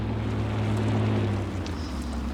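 A Farmall 560 inline-six diesel tractor engine in Farming Simulator 19 idles in a steady, low, throbbing drone, heard alone and fairly close with an even rumble throughout.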